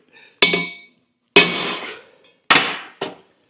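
Four sharp metallic hammer blows striking a bearing to seat it on a Scout 800 axle, close and loud, each ringing briefly, spaced irregularly about a second apart with silence between.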